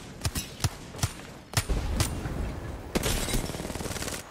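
Rapid gunfire rings out in the shooter game Apex Legends, sharp cracks in uneven bursts and volleys, close and loud, with a denser stretch of shots near the end.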